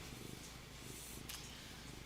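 A cat purrs softly and steadily up close, a low continuous rumble with a brief rustle midway, faint overall.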